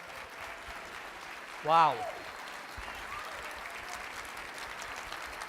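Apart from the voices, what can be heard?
audience applauding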